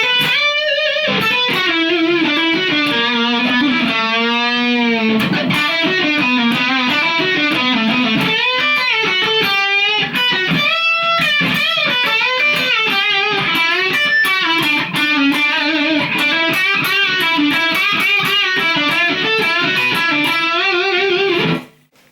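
A Les Paul electric guitar plays a solo, a continuous lead line of bent and sustained notes with vibrato, loud and alone with no talking.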